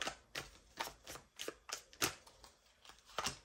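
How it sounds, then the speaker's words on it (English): Tarot cards shuffled by hand in a quiet room, a series of about eight crisp riffling bursts in an uneven rhythm, close and fairly soft. "Two more shuffles."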